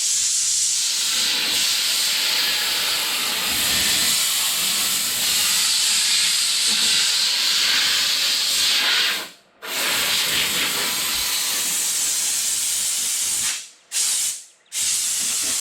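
Compressed air hissing steadily as it blows dust out of a car's drip rails in a body shop, a loud continuous rush broken by three brief pauses near the end.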